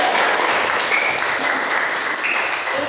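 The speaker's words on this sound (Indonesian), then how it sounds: "beri tepuk tangan kepada Marcel" A classroom of students applauds a classmate named Marcel after a math lesson on factorials; dense, steady clapping fills the room at close range for the whole stretch.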